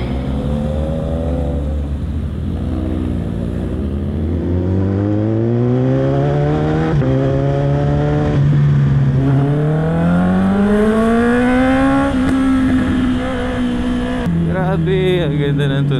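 A Honda CB650R motorcycle engine roars nearby while being ridden, its pitch climbing and dropping through repeated rev-ups and gear changes, loud and continuous throughout.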